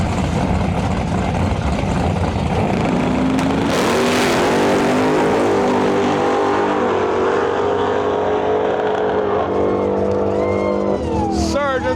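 Drag race at the Rocky Mountain Nationals between a nitrous Plymouth Barracuda and a Plymouth Duster, loud engines roaring and rising in pitch as the cars launch and pull down the strip, with an announcer talking over it.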